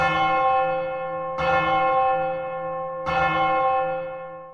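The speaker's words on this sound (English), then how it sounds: "Have you ever heard that bell?" A deep, resonant bell tolls three times at even intervals, each strike ringing out with a long sustained hum that fades between hits.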